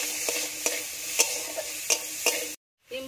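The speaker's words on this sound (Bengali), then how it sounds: "সিম পুরো ভালো করে ভাজা হয়ে গেছে" Green beans frying and being stirred in a pan with salt and turmeric: a steady close sizzle broken by several sharp scrapes of the spatula, then a brief silence before the sizzling resumes.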